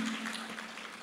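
A brief, steady wash of applause from a church audience at a Spanish-language book launch, dense and even throughout with no voices over it.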